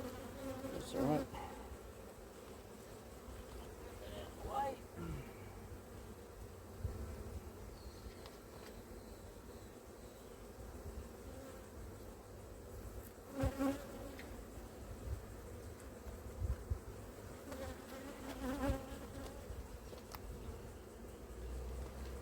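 Honeybees buzz steadily around an open hive during a spring inspection, a soft continuous drone close by with occasional louder passes and faint knocks from the frames.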